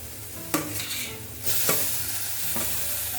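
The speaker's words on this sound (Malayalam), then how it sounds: "അവിടെ നന്നായിട്ട് വഴറ്റിയെടുക്കാം" Spices sizzling and being stirred in a pan for channa masala, a steady frying hiss broken by a few utensil scrapes and knocks, no voices.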